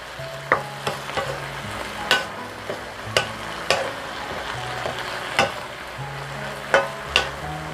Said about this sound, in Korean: 그래서 달달 고추가 나른해질 때까지 볶아줍니다.